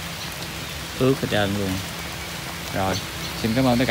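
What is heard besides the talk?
rain falling outdoors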